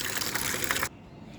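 Water pours steadily from a container to give animals a drink, a close, full gush that runs for under a second and then cuts off abruptly into quiet.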